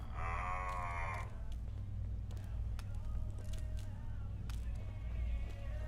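A two-headed cow in the video game Fallout: London lets out a moo lasting about a second, followed by low game ambience with faint clicks and rustles.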